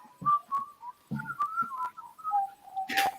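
A person whistles a simple wavering tune up close, a string of clear sustained notes with short breaks and some faint clicks, no talking.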